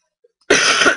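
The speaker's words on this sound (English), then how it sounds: "I'm gonna cough" A single loud, harsh cough bursts out after a brief silence, close to the listener, with a second short burst right at the end.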